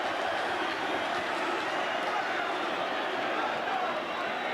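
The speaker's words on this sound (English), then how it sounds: "I've never heard such excitement in my life as this crowd is creating here" A packed boxing arena crowd roars without pause through the Barry McGuigan vs Eusebio Pedroza world title fight. The dense, steady wall of cheering runs under a commentator's voice.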